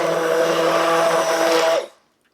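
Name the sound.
blender blending broccoli cheddar soup in Instant Pot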